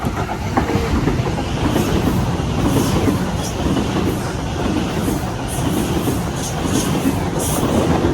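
A train passes through Flemington station in Sydney, a loud, close, continuous rumble with rhythmic clickety-clack of wheels over rail joints and faint high squeals, steady throughout with no talking.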